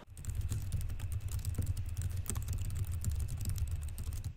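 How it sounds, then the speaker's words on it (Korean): Typing on a Gigabyte AERO 15 OLED XB laptop keyboard, a steady run of quick, moderately loud key clicks over a low hum, with no talking. "청축 키보드처럼 소리가 크지도 않고 그렇다고 저소음 적축처럼 아주 조용하지도 않죠."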